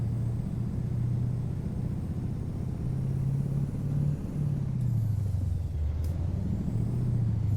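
A Mack MH613 Ultraliner truck drives in American Truck Simulator, its engine a steady, close low drone that rises and falls in pitch as it accelerates and shifts, with a brief air hiss.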